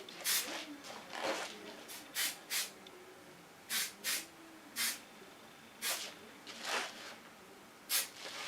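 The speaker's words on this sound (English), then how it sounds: "Finish it up with Dramatic Fix. That's a strong hairspray." A can of strong Dramatic Fix hairspray is sprayed onto hair in about a dozen short, sharp hissing bursts at irregular intervals, close and fairly quiet, with faint voices in between.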